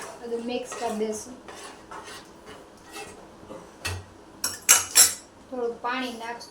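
Metal spoon clinking and scraping against a pan while mixing dal with garam masala and lemon juice, a series of sharp clatters and taps close by, no talking.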